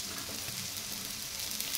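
Chapati topped with a gram flour (besan) mixture pan-roasting in oil on medium flame, a soft continuous sizzle close by with no voices.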